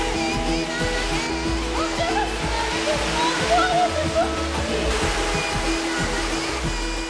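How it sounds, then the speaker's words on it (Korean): Kuang Si waterfall in Laos pours over shallow limestone terraces, a loud continuous roar of falling water with a steady rushing hiss, while music plays underneath. "떨어지는 물소리를 들으며 앉아 있어도 좋고"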